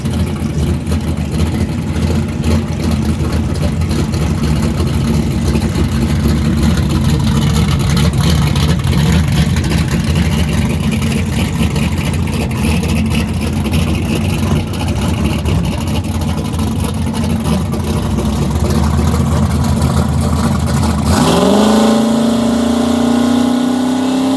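A 3rd gen LS-powered drag car with a hydraulic roller cam makes a pass, its engine roaring loud and steady for a long stretch before the note drops and winds down near the end.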